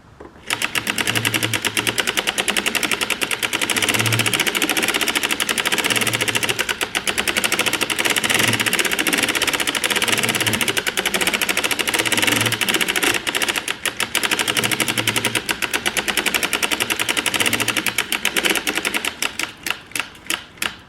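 A circular sock machine knits rows of scrap yarn, giving a dense, continuous rapid clatter of needles and cranking, with a faint rhythmic low thump repeating every second or two, steady and close throughout.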